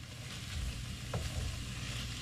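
Meat fries steadily in a pan, a low continuous sizzle and crackle with faint stirring, close and fairly quiet, no voices over it.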